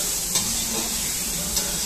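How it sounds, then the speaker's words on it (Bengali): Spice masala for about four kilograms of meat sizzles loudly in a very large pan over a big gas flame, with a continuous hiss and a couple of brief stirring scrapes. "এখানে আমি মাংসের জন্য মশলাটাকে কষাচ্ছি, খুব ধোঁয়ার ঝাঁজ বেরোচ্ছে"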